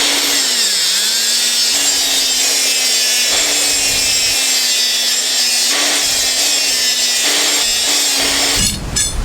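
A power saw cuts rebar into 2.5-foot pieces for a basement floor pour, making a loud, sustained grinding whine with brief dips between cuts. It ends abruptly, and no one speaks.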